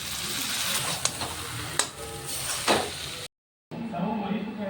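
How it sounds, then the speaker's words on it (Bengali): Ghee and whisked curd hit a hot pan with cabbage and garam masala, giving a continuous loud sizzle with a few sharp clatters, a brief silent gap, then the frying resumes. "2 চামচ ঘি দিয়ে দিলাম, দইটা ঘুটে রেখেছিলাম দিয়ে দিলাম"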